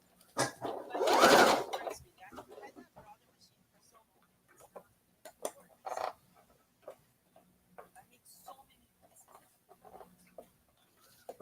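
A Brother sewing machine stitching, with one loud whirring run early on and then brief intermittent mechanical taps, while a person talks throughout.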